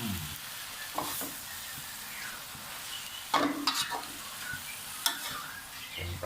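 Chinese kale with salted fish being stir-fried in a hot pan: steady sizzling hiss under scraping spatula strokes and a few sharper clanks, close and continuous with no talk.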